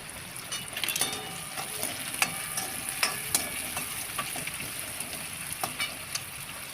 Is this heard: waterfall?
no